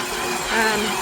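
A steady mechanical whir of a stand mixer motor kneading sourdough, running continuously, loud and close, with a slight rise in pitch midway.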